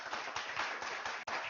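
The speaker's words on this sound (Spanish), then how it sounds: "Fuerte aplauso." Brief applause from an audience at a neuroscience symposium after a presentation, a dense wash of clapping heard for a moment with a short break near the end.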